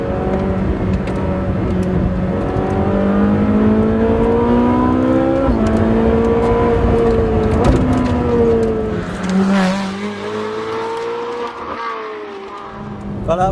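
A Ferrari 458 Speciale's engine revs loud and close, its rising pitch climbing through several gear changes as the car accelerates hard, then easing off near the end.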